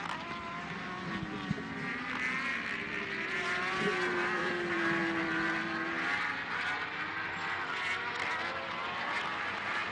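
Superstock 1000 racing motorcycles at the Pannonia Ring in Hungary, in an Alpe Adria championship race, roar steadily past as a sustained engine drone with rising and falling whines over constant crowd-like ambience.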